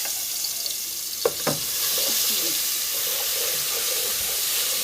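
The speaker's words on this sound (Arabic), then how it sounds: "استنى بس الزيت يقدح وننزل عليه بالتومه" Garlic dropped into hot oil, bursting into a sudden sizzle after two sharp clinks, then settling into a steady, moderately loud frying hiss with no talking.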